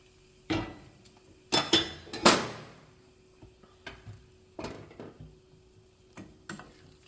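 Gongura chutney being mixed with heated oil in a bowl, giving several sharp clinks and scrapes of a utensil against the container in separate bursts, close and fairly quiet with pauses between.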